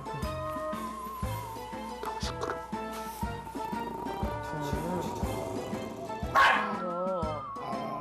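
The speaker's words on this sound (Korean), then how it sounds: "한 번 짖기 시작하면 끝이 없다는 녀석." A dog barks and yips repeatedly in a house, loud sharp bursts in an irregular run with a whimpering note, close by and dominating the scene.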